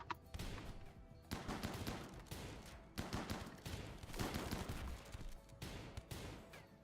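Gunfire in Rimworld, a steady run of sharp shots and volleys, faint and distant, with a couple of heavier blasts among them and no talk.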